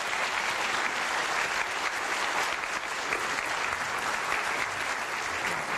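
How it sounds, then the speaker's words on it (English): Dense, even applause from a conference audience for a closing panel, loud and continuous throughout with no speech or breaks. "give the panel a big hand of applause"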